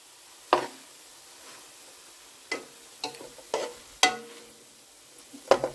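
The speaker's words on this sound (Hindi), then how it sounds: "दो 4 मिनट तक या 4 से 5 मिनट तक मैं ऐसे ही कीमे को पकाऊंगी।" Minced meat (keema) being stirred in a pan for a desi-style keema and mushroom dish: a few sharp, close scraping and knocking strokes at irregular intervals over faint sizzling.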